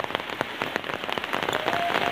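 Rain falls steadily during the wet season in a rural village, a dense patter of drops striking surfaces with scattered louder splashes, close and continuous with no voices.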